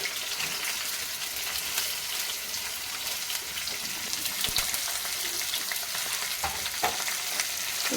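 Finely chopped onion with curry leaves and green chillies sizzles in hot oil for a soya chunks kurma, a steady crackling hiss with occasional stirring clinks, close and continuous with no talk.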